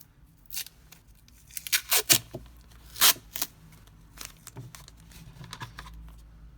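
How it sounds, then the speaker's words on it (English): Brown tape being pulled and wrapped around the spine of a handmade envelope journal, heard as bursts of sticky tearing and crinkling close up, with quiet pauses between strips. "which is where I would use this brown tape, and I'm just going to wrap it around this spine area here."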